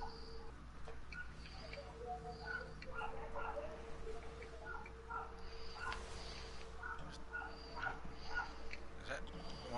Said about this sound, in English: Is that one of the dogs, Randy?